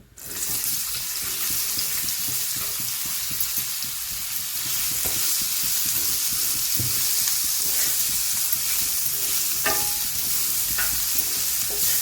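Pieces of ridge gourd hitting hot oil in an iron pan, giving a steady, loud hiss with occasional scraping clicks throughout, no voices.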